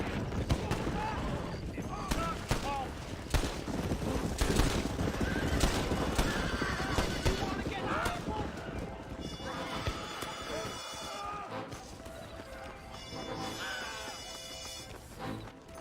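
A horse neighs and gallops with steady hoofbeats in the Western video game Red Dead Redemption, under layered game sounds and occasional crashes, with voices speaking throughout.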